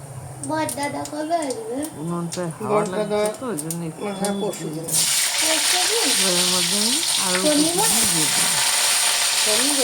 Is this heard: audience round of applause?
no